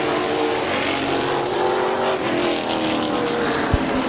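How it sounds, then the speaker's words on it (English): Race cars roaring off at the green flag at Midvale Speedway, a dense loud wall of engines revving and accelerating together, close and continuous. "And Huff, green flag is in the air, 50 laps of racing."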